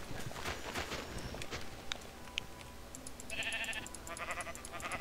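Sheep bleats in the Minecraft video game, a few short game-sound calls mixed with blocky footstep-like clip-clop noises and other in-game effects, moderately loud with no speech.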